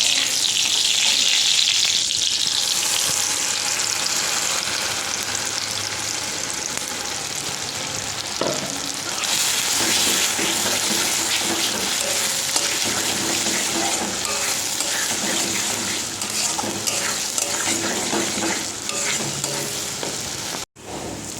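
Pointed gourd (potol) paste seasoned with salt, sugar and chilli fries in oil, a loud continuous sizzle with scraping stirs throughout and a short break near the end; no one speaks.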